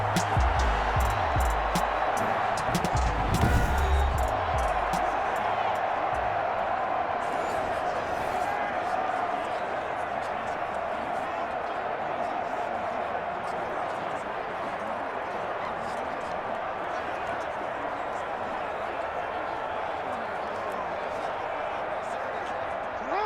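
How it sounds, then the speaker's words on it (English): Stadium crowd in Madden NFL 21 holding a steady roar throughout, with a louder surge and thumping at the start before settling into a continuous wash of cheering. "And this crowd loves it as their guys hold on the opening drive."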